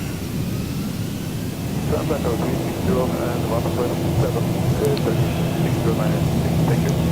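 A Boeing 737 in X-Plane 12 spools its engines to takeoff thrust on the runway with a broad, steady roar that swells and holds, while a pilot speaks over it.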